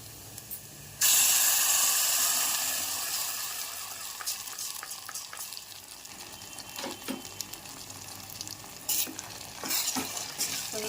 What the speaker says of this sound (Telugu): మనం మిక్సీ పట్టుకున్న ఈ పేస్ట్ని ఇందులో వేసుకోవాలి